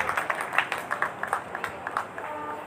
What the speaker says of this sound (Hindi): एक बार जोरदार तालियों का महोत्सव करें।